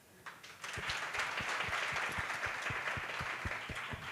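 Audience applause at a CorpsAfrica Kenya pitch day event, a room full of clapping that starts after a brief pause and carries on steadily at a moderate level, with distinct individual claps.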